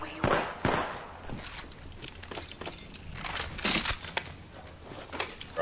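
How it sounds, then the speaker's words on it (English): P2020 pistol fired in a video game: several sharp, separate shots crack out at irregular intervals over low ambient game noise, some louder and closer than others, with quiet voices faintly underneath. "It's me shooting my P2020."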